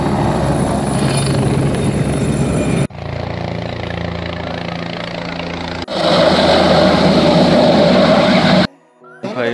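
Helicopter at the Kedarnath helipad, a loud steady rotor and engine roar that changes level across several cuts and drops out briefly near the end.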